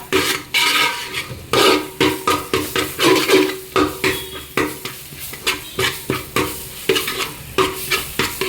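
Spices sizzle in a hot pan while a spoon stirs and scrapes in quick, repeated strokes, close and fairly loud, with no voices; coriander powder being roasted for a Kerala-style mackerel fish curry.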